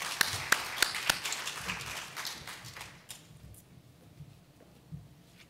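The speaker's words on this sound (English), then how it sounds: "let's give them a round of applause" Applause from a small audience at a conference talk, with sharp separate claps at first that thin out and fade to scattered taps within a few seconds, fairly faint overall.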